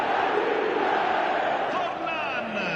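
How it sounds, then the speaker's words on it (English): Stadium crowd noise from a PS4 football video game, a steady loud roar of many voices filling the whole stretch, with some rising cheers near the end and no clear speech. "the crowd are reacting to that now"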